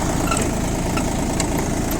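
An Iseki TU185F mini tractor's engine runs at a steady idle nearby, a continuous low rumbling chug with even vibration and no other sounds over it.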